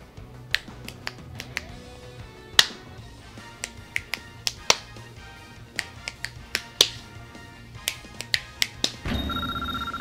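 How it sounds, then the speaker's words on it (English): Sharp finger snaps and claps from the mobile game Dragon Ball Z Dokkan Battle ring out in an irregular run of about twenty crisp hits over a low hum, ending in a bright jingle. "Horrible clapping and snapping."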